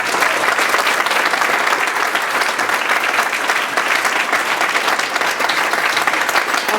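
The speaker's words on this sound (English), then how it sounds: "Can we just get a quick round of applause?" A large audience claps steadily and loudly at a museum gallery talk, a dense, even wash of applause that holds without pause throughout and carries no speech.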